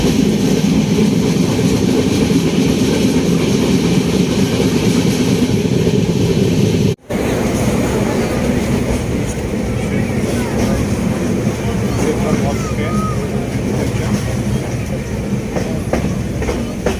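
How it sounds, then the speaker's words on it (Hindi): Delhi–Pathankot train passing on the adjacent track near Kurukshetra Junction, a loud continuous rumble of railcars with rhythmic wheel clatter, heard from aboard another train with voices in the background. "इसी ट्रेन ये आपकी पास कर रही है दोस्तों दूसरी साइड से दिल्ली पठानकोट।"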